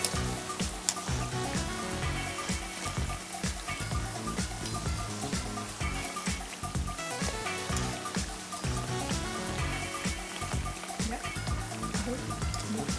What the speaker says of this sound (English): I have the hot oil in here, which I'm going to deep fry them